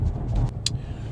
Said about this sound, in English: The engine just did kick on